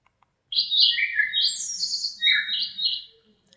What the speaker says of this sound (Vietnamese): con chim nó hót